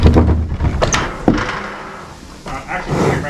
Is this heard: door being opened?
yes